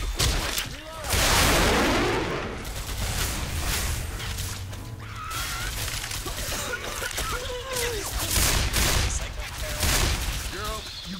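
Magnum pistol gunfire in Left 4 Dead 2, with loud booming shots and chaotic battle noise running throughout, set in The Parish campaign, and players talking over the action.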